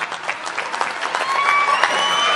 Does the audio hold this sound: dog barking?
no